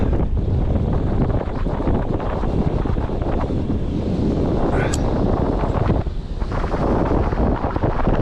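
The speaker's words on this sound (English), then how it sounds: "Oh, look at that wind blow." Cold wind blows hard across an island, roaring and buffeting the microphone in a loud, continuous rush with gusty swells, briefly easing near the end.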